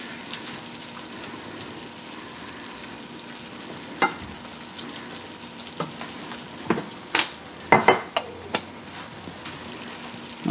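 Sausage gravy bubbles in a pan over medium heat, a low steady sizzle broken by scattered soft pops and a few spoon taps, near and unobtrusive.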